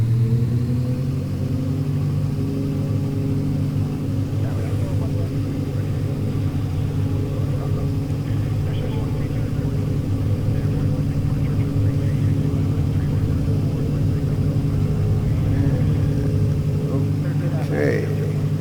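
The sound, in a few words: aircraft engine during takeoff roll in X-Plane 11 flight simulator video game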